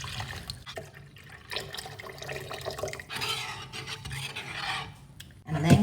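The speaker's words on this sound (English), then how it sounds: "And then come in with your wire whisk." A wire whisk scrapes and swishes steadily through a flour roux as milk is stirred in for moussaka, a close, rough rubbing with some wet sloshing and a brief louder clatter at the end.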